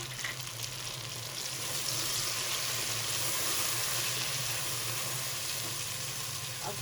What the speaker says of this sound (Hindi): थोड़ा सा पानी डालेंगे ताकि हमारे मसाले जले नहीं।